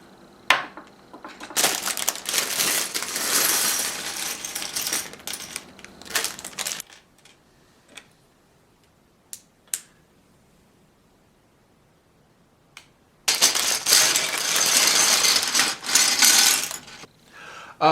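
LEGO pieces from bags for a T1 camper van set poured and combined into a pile, two long bursts of dense clattering plastic rattle separated by quiet stretches with a few isolated clicks, close and fairly loud.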